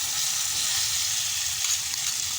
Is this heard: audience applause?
no